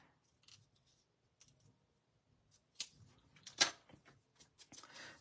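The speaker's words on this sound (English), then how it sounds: "So I'm just going to trim this off by hand." Craft material for a shadow box frame trimmed by hand with scissors: a few quiet, scattered snips and crisp cuts, with a louder cluster of sharp snips near the end.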